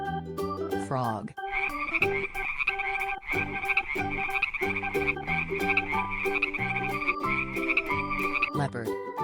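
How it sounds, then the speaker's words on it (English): A frog croaks in rapid, repetitive pulses that continue almost without a break, loud and close over light background music. "Frog."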